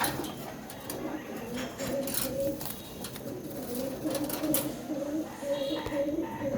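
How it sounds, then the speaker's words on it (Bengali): Young pigeons coo repeatedly in low, rolling phrases from close by, over a busy background of murmuring voices and clatter. "কলসি মানের কবুতর"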